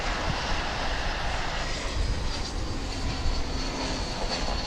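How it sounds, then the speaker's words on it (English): American Airlines Airbus A321 jet arriving from Austin and landing at Dallas/Fort Worth International Airport, a broad, steady engine roar with a whining edge, heard from a distance and holding throughout without speech. "A321 coming in from Austin, Texas,"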